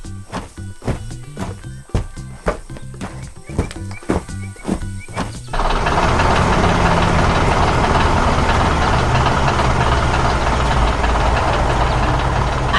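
A yellow loader working on an animated farm while loading giant sunflowers, with rhythmic knocking clatters at first and then a loud, steady engine roar that runs on continuously.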